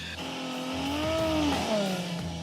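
A powerful motorcycle and a car rev hard against each other in a tug of war, engine pitch climbing and bending with faint tire squeal, loud and sustained.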